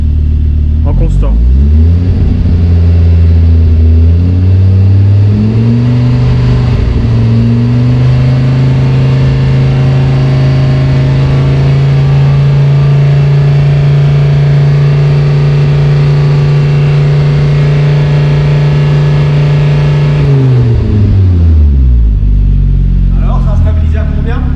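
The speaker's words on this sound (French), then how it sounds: "Donc là il va se mettre à 3500 tours en constant." A car engine rises from idle and is held at a constant 3500 rpm, a loud steady drone for about eighteen seconds before dropping back, with voices talking over it.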